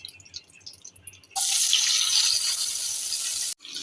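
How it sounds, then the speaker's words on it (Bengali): Onion going into hot hilsa fish oil in a home kitchen pan, a sudden loud broadband sizzle that bursts in and holds steady for about two seconds, then cuts off abruptly. "পেঁয়াজটা ভেজে নেব।"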